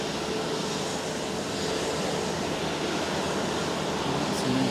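A plane arriving at Fukuoka airport after a domestic flight from Haneda, a steady broad jet roar that stays loud and constant throughout, with no other clear sounds.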